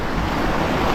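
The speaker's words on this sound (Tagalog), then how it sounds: "Ngayon mahina yung alon" Gentle ocean surf at a shore near a river mouth, a steady broad wash of water under light wind noise, heard briefly without voices.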